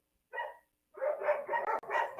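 Dogs barking in the background of an online meetup, a short bark followed after a pause by a run of several quick, close barks and yips.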